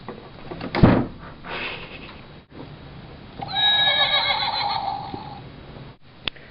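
A horse whinnies loudly for a couple of seconds amid thumps and clattering, with a door-like bang early on and a sharp knock at the end.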